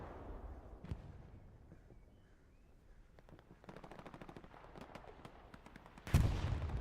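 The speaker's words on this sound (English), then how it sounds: "Bombing run from Valor." A bombing run strikes in the World War II shooter Hell Let Loose, distant rattling machine-gun fire and scattered shots leading into a loud close explosion rumble at the end.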